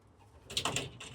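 Young racing pigeons, freshly rung and still downy, give a brief burst of soft bird sounds, close and fairly quiet, with light rustling and no one talking.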